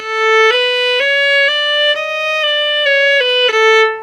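Violin playing a finger pattern exercise, a steady stepwise pattern of eight bowed notes of about half a second each, rising then falling, clear and close with no talking.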